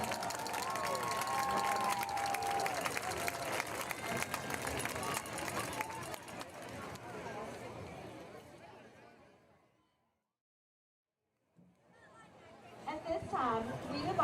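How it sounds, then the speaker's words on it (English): Crowd at a high school football game between Union Grove and Elysian Fields applauds the school band, with scattered clapping, cheering and chatter mixed with talk, fading to silence before crowd noise returns. "please give one more round of applause for the Elysian High School band."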